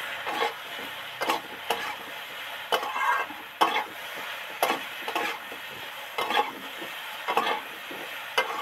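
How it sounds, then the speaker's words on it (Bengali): Pumpkin, potato and prawn curry with chilli powder and sugar is stirred and fried in a pan, giving repeated scraping stirs in an uneven rhythm over a soft sizzle, close and fairly loud, with no talking. "হাফ চামচ লঙ্কা গুঁড়ো আর একটু টেস্ট মতো চিনি দিয়ে নেড়ে চেড়ে 2-4 মিনিট ভাজতে থাকবো"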